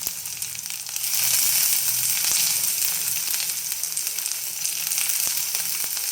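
Chopped vegetables such as beans and capsicum sizzle in a hot pan for ragi soup, a steady crackling fry with a few faint stirring clinks, close by and without talk.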